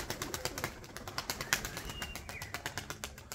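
A pigeon beating its wings in flight near a coop, making a rapid, steady flutter of soft flaps at low level with faint outdoor background.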